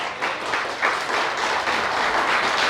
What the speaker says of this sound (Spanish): si va a aplaudir, apláudale bien